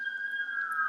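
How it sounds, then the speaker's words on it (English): Loud ambulance siren holding a steady wailing tone, echoing off downtown buildings, heard alone for about a second. "I suppose you can hear the ambulance. I'm sorry, it's very loud. Just bouncing off of all of the buildings downtown."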